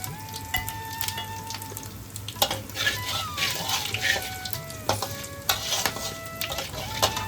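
Dried red chilli, bay leaf, cumin and whole garam masala crackle and sizzle in hot oil, with a spoon clinking and scraping the pan now and then, steady and close throughout.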